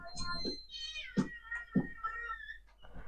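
A cat meows several times up close, drawn-out, rising and falling cries with short pauses, with a knock-like bump between them.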